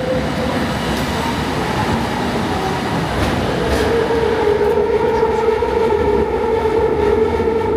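City metro train passing on a busy line, a loud steady rumble of wheels and motors close by, with a rising tonal whine building in the second half.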